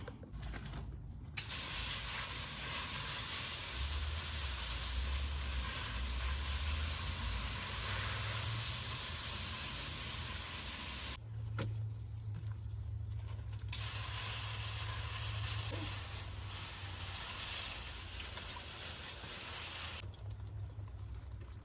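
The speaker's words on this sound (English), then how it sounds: "So I'm gonna get the hose and start spraying." A steady, broadband hiss of a hose spraying water runs nearly continuously, pausing briefly twice, with no talking.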